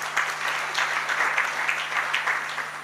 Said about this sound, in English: Let's clap our hands for each one of us.